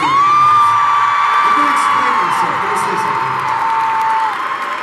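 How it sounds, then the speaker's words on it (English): A large arena concert crowd on a rock band's tour finale applauds, whoops and cheers loudly and continuously, with shrill whistles and yells rising above a dense roar of clapping. "Give yourself the biggest round of applause."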